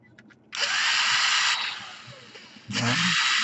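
A power drill unscrewing screws on an Asus Q301 laptop during a DC power jack repair, a close, loud whirring burst that eases off midway, then a second burst starting, with faint clicks just before.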